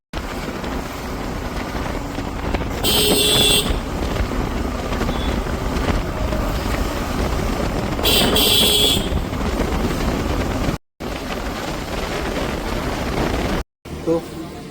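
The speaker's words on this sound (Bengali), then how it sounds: "বাবা বাইক চালাচ্ছে।" A Suzuki V-Strom SX motorcycle cruises along a road toward evening, a steady engine drone buffeted by heavy wind noise throughout, with a couple of brief higher whines and short dropouts near the end.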